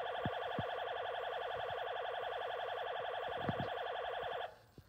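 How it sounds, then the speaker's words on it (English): The second siren tone on a 2005 Hess emergency toy truck is a rapid warbling electronic yelp. It plays steadily for about four seconds and then cuts off, with faint clicks behind it. "Okay. Siren 2."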